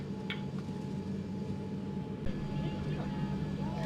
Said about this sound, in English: Taxiing past some interesting aircraft now.